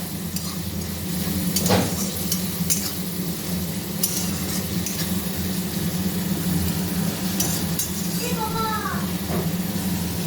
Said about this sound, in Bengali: পেঁয়াজটা একটু ভাজা ভাজা হয়ে আসছে, মশলাটা একটু ভাজা ভাজা আসবে